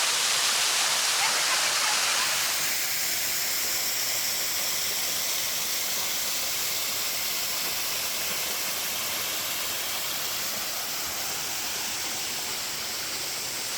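A waterfall at Cumaca Falls on the Turure Watersteps in Trinidad roars in a steady, loud, continuous rush of falling water, with no voices.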